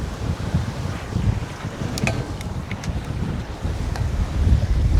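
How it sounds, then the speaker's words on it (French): Steady wind noise buffets the microphone while sailing on the Douro river toward Porto in 13 to 15 knot gusts, with low rumbling water and hull sound throughout and a few faint clicks; no talk. "c'est inespéré en fait le vent parce que du coup c'était pas prévu qu'il se lève comme ça"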